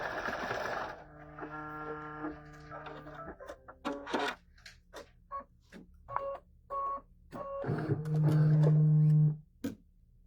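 A sewing machine stitching a turkey-themed trivet: a humming motor whine with short start-stop bursts, electronic beeps and clicks, then a final steady run of stitching.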